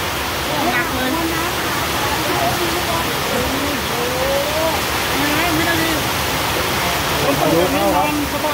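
Heavy rain pours down outdoors as a loud, steady, dense hiss that never lets up, while people talk over it.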